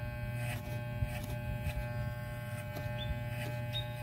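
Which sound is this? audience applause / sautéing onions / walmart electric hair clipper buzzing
walmart electric hair clipper buzzing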